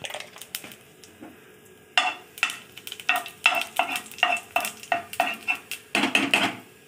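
Cumin seeds sizzle in hot oil in a pan after fried fish roe, with about a dozen rhythmic stirring scrapes that grow louder and more regular, heard up close and alone.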